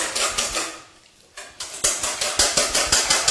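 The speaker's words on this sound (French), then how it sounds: "les œufs qu'on va fouetter et mélanger avec le lait et la crème" Eggs whisked with milk and cream for a pear flan, a fast regular clatter of whisk strokes against the bowl that pauses briefly, then resumes in a steady, close rhythm.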